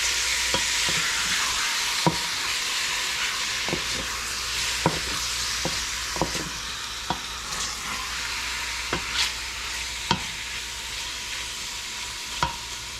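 Beef browns in oil in a pot over medium-high heat for carne guisada, giving a steady loud sizzle broken by regular scraping and clicking stirs of a utensil, close up, with no talking.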